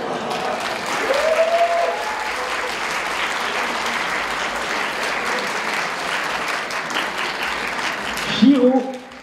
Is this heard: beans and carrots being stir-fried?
no